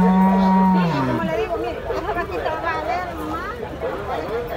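Cattle moo at a cattle market, one long, loud, close low moo at the start followed by several overlapping calls from other animals amid steady crowd noise.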